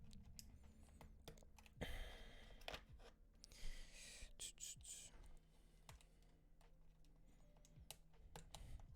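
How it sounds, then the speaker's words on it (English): Fingers type on an Ikki68 Aurora mechanical keyboard, producing a close, continuous patter of crisp clacky keystrokes with some louder bursts and uneven rhythm. "I'm really liking how this keyboard sounds"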